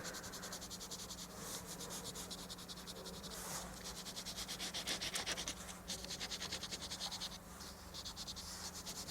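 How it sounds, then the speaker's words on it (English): An eraser rubs pencil lines off paper in quick back-and-forth strokes, a soft, steady scratchy friction that stays close and fairly quiet, with no talking. "I just rub it out and leave it in lightly still"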